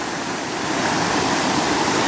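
A waterfall on a hiking trail roars in a continuous, dense broadband rush of falling water, loud and close, with no voices.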